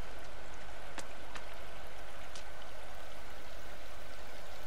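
Flowing water at the map edge in the forest survival game The Forest, a steady rushing stream-like wash with a few brief splashy clicks, no talking.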